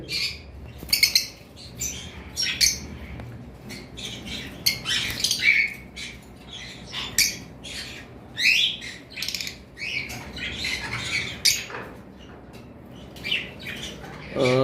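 Lovebirds in a bird shop, many sharp squawks and chirps overlapping at close range in irregular bursts, loud and busy throughout.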